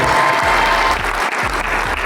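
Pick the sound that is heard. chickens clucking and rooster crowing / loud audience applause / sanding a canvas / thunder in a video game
loud audience applause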